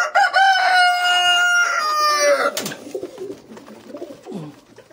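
Pigeons and a backyard hen heard together: a loud, close crowing-like call with strong harmonic tones in the first seconds, then softer low cooing and clucking continuing alone.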